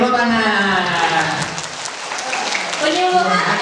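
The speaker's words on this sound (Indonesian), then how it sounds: "Yeay, tepuk tangan." An audience applauds at the opening of a charity event in a hall, a dense, loud wash of clapping that dips slightly midway and swells again, with voices mixed in.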